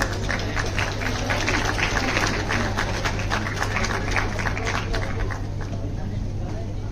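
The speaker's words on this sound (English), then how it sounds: "please put your hands together and let us welcome Mr. Manpal, our amazing moderator" Steady applause from a design festival audience welcoming a moderator on stage, a dense patter of clapping holding at an even level with a low hum underneath.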